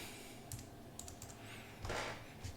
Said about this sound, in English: all you got to do is type in KDE